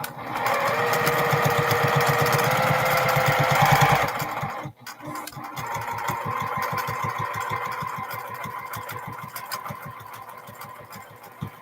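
Sewing machine stitching 4-inch quilt blocks together, a fast steady whirring run that stops abruptly, then resumes in a slower rhythmic stitching pattern, close and clear.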